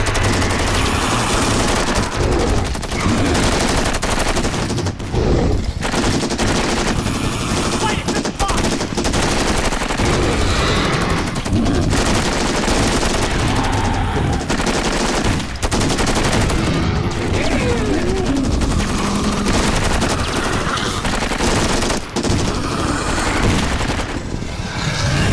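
Sustained automatic gunfire from a film battle against dinosaurs, loud and continuous with dense rapid bursts and brief breaks, layered over a busy action soundtrack.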